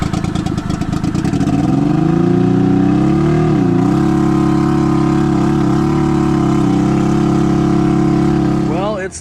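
A methanol-fueled Can-Am side by side making 550 horsepower on over 50 psi of boost runs loud and close, a steady thick engine drone that wavers briefly midway and climbs in a short rev at the end.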